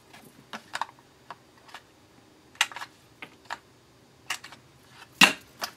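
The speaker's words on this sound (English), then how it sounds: "I'm going to use the Project Life Corner Punch" A Project Life corner punch rounds the corners of a card, giving a series of sharp, quiet clicks and snaps spaced irregularly in an otherwise quiet room.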